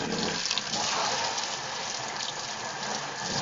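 Tap water runs steadily from a faucet as worms are rinsed, a continuous broadband splash that stays loud and even throughout with no pauses.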